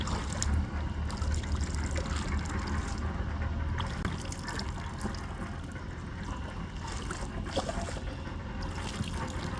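Fresh water from a farm well flows in a steady, fairly faint trickle and gurgle that keeps going without a break.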